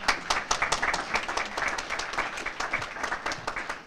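A crowd at a graduation stole ceremony applauds steadily, many hands clapping in a dense, even patter that carries on for a few seconds.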